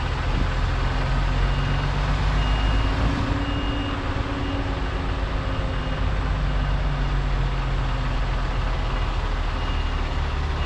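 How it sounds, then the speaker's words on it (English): A truck backs a trailer slowly into a yard, its reversing alarm beeping steadily over a constant, close diesel rumble for the whole stretch. "line up the trailer in front of it and just reverse back nice and easy"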